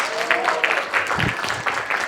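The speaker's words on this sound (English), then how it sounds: "This is an opportunity for you to put your hands together for all of our students." An audience applauds students at a leadership talk, with sustained, dense clapping from many hands filling the whole stretch at a steady level.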